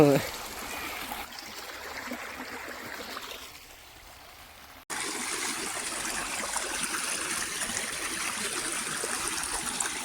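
Clear stream water rushes steadily where tripe is being cleaned at a Kerala village site, a broad hiss that dips quieter midway before surging back loud and constant.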